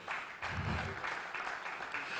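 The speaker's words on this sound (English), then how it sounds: "So please give them a big round of applause." Round of applause from a tech conference audience after a startup investor is introduced, a steady dense patter of many hands filling the short stretch without pause.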